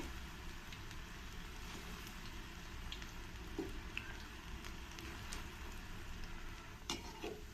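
Banana pakoda fritters sizzle and crackle steadily in hot oil over a medium flame, with occasional light scraping as they are stirred, a dense continuous hiss throughout.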